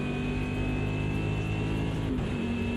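A pick-up race car in Automobilista 2 drones with a loud, steady engine note that holds at near-constant revs, with a slight dip toward the end.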